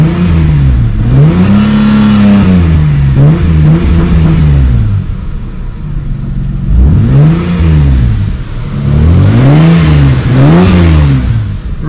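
An Australian car with a new air filter and a leaking muffler revs repeatedly, its engine pitch rising and falling in loud, close bursts separated by a brief idle lull.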